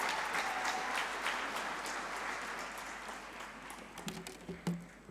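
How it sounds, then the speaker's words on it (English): A conference audience at a high-level dialogue applauds a minister after her speech, with a broad wash of sustained clapping that slowly thins, leaving scattered individual claps and faint murmurs at the end. "One more round of applause for Honorable Filda Kereng"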